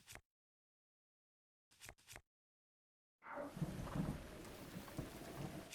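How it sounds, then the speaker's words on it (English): Thunderstorm with steady rain in the video game Zelda: Breath of the Wild, a few faint clicks before a broad wash of rain on surfaces sets in with low rumbling thunder. "Uh-oh, lightning storm."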